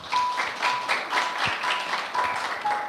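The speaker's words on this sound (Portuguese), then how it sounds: "Salva de palmas aí para o casal" Applause for a newly married couple at a wedding ceremony, a dense, loud patter of many hands clapping steadily throughout.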